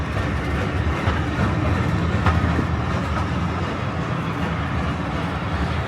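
A train labors steadily up a gradient on England's Esk Valley Line nearby, a heavy continuous rumble with faint rhythmic clatter and no talking.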